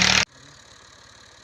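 Tractor engine idling nearby: after a brief loud burst at the start, a steady low rhythmic chugging continues quietly on its own.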